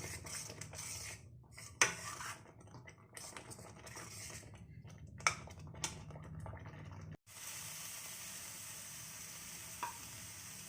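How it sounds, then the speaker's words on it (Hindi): Jackfruit masala being stirred and sautéed in a kadhai, a spoon scraping and clinking against the pan in irregular strokes over a low, steady sizzle, with a couple of sharper metal knocks. "इसको हम तब तक भूनते रहेंगे जब तक इसमें से ऑयल सेपरेट ना हो जाए"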